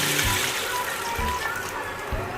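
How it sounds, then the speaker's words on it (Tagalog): Water poured into a pot of browned chicken for tinola, a broad rushing slosh that fills the pan steadily from start to finish, close and fairly loud with low kitchen rumble beneath. "Lagyan natin siya ng tubig."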